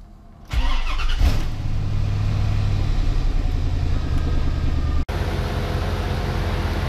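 A C4 Corvette engine cranks briefly, catches and settles into a loud, steady idle rumble close by, with one short dropout near the end.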